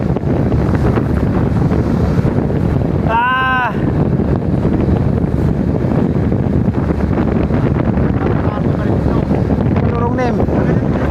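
Boat ride toward Canigao Island over rough, choppy sea, with steady loud wind buffeting the microphone and waves slapping throughout. A brief whoop or shout rises over the roar twice.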